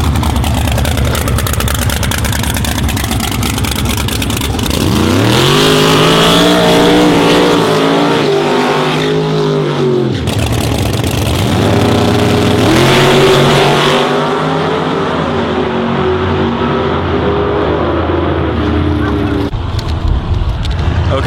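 Race car driven at full throttle around Malmø Raceway, its loud engine roaring and rising in pitch through repeated accelerations, with sweeping revs and shifts across the run and a brief drop before climbing again.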